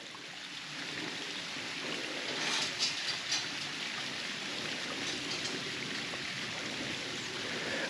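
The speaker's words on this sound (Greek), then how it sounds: "Ακριβώς από πάνω, όπως θα δείτε, κατεβαίνει και το νερό" Water rushes down beside an old stone watermill in the Tzoumerka mountains near Arta, Greece, a steady close hiss of flowing water that stays even throughout, with slight splashy surges partway through.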